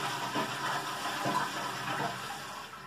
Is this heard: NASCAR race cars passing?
no